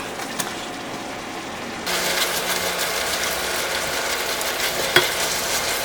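Fish cakes with green onion and onion stir-fry in a pan for spicy eomuk bokkeum, a steady crackling sizzle that jumps louder as ingredients hit the pan, with a sharp clatter near the end.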